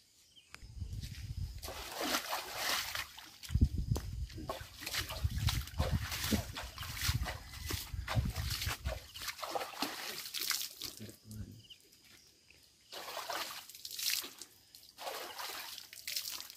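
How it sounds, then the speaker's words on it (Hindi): Hands and feet washed in water outdoors, with splashing, trickling and sloshing in repeated bursts, close and moderately loud, under intermittent talk. "तो मैं भी यही धोने वाला हूँ हाथ पैर सबको"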